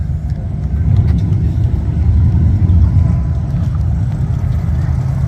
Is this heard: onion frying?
no